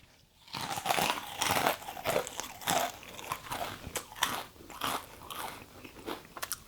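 Loud, close crunching and chewing of a crisp Roller Coaster snack stick in Ghost Pepper flavour, with repeated bites and brittle cracks rhythmically filling the whole stretch, with no talking.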